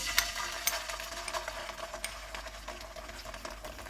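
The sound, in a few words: garlic chili sauce frying in hot oil in a pan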